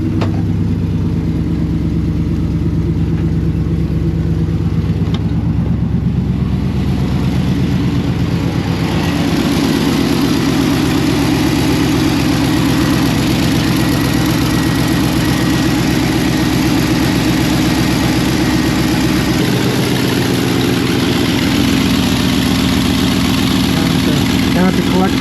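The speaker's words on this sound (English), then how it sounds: "I hear exhaust leaks." A running car engine idles in an auto shop, with a steady low rumble and rough, ticking exhaust leaks near the collector, continuous and close, while a person talks over it.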